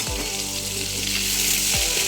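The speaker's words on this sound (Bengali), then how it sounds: "মাছ ভাজছি" Fish frying in a pan on a home stove gives a steady, close, loud sizzle throughout, with two brief low scraping or stirring movements near the start and end.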